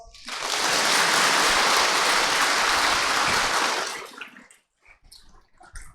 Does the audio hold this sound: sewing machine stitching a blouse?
no